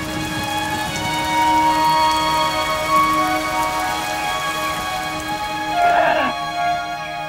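Rain falls steadily during the rainy season at Copan, a dense even patter on surfaces under steady tonal drones, with a brief brighter burst near the end.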